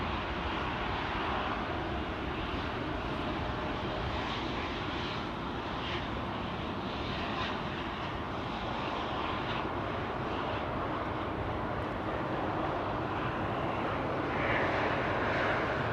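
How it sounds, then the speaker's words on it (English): An Embraer E2 195 jet passes at Amsterdam Schiphol Airport, giving a sustained mid-distance roar with a broad rushing texture that stays even for a long stretch and swells slightly near the end. "E2 Embraer 195 on its way."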